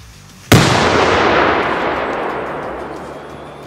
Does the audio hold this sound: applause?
no